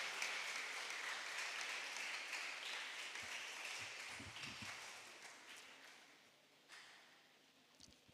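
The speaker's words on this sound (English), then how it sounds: "With a round of applause, let's welcome them." A quiz competition audience claps for arriving contestants, a broad sustained wash of applause at moderate distance that slowly tapers, with a brief renewed burst near the end.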